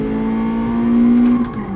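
Toyota AE86 engine in GT Sport pulling hard in second gear, a steady rising drone that swells louder toward the end, with faint hints of tire squeal.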